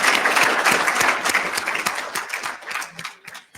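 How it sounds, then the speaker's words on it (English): A conference audience gives the speakers a round of applause, a close, lively burst of many hands clapping that gradually thins into scattered individual claps. "if we can just give all our speakers another round of applause for all the great work."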